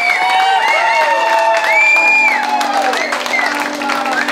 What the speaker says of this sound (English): massive big round of applause for the new Mr. and Mrs.